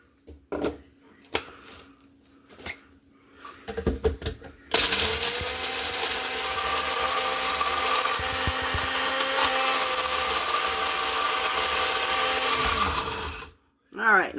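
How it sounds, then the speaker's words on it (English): A NutriBullet blender grinding orange peel, a loud steady motor whir running about nine seconds, preceded by knocks and clatter from loading the cup, with a voice talking beforehand. "I'm going to finish grinding that up"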